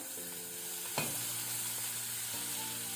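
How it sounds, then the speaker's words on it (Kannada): Tomato and ginger fry with onion and garlic for an egg capsicum curry, a steady bright sizzle with a soft stirring knock around the middle, no voices. "ಅದನ್ನು ನಾವು ಸ್ವಲ್ಪ ಫ್ರೈ ಮಾಡ್ಕೊಳ್ಬೇಕು."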